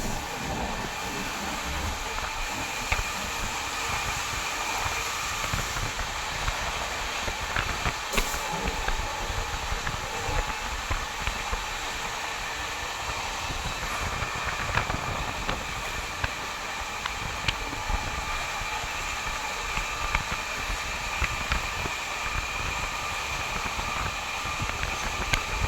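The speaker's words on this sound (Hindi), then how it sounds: "अपनी पैरेलल रेस शुरू हो गई है गुड्स ट्रेन के साथ।" Amrit Bharat Express running in parallel with a goods train in Rajasthan, heard from on board as a steady loud rolling rumble with faint rhythmic wheel clicks and rattles throughout.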